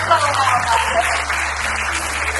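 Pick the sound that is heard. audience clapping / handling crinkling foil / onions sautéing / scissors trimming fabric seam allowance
audience clapping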